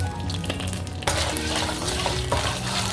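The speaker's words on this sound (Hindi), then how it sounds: "थोड़ा सा ना इसको भून लेंगे हम इन तीनों को अच्छे से" Whole black pepper and spices fry in a small amount of oil, a dense sizzle that jumps louder about a second in and keeps hissing with light stirring, close and without talk.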